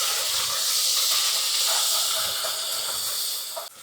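Ginger garlic paste frying in a pan for mutton curry, a loud, close, continuous hiss of sizzling oil that dips briefly near the end.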